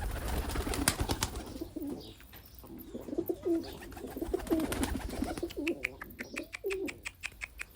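Pigeons coo repeatedly with low, throaty calls, close by in a coop, mixed with scattered clicks and rustling, faint overall.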